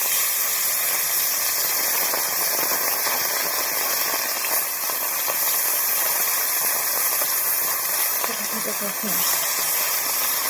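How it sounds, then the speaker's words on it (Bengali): Small fish sizzling in hot oil for a fish curry, a loud continuous hissing fry that runs unbroken throughout, close and steady. "মাছটাকে আমি ভেজে নেব"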